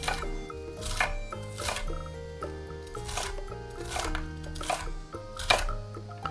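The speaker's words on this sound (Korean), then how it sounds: "피망 반개도 양파같이 잘게 잘라주세요." Half a green bell pepper being finely chopped with a knife on a board, quick clustered knife strikes repeating at a brisk, uneven rhythm, close and fairly quiet.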